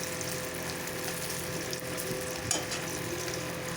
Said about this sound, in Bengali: যেরকম মাছগুলো ভাজা হয়ে গেছে এবার বড় বড়াগুলো আমি দিয়ে দিলাম কড়াইয়ে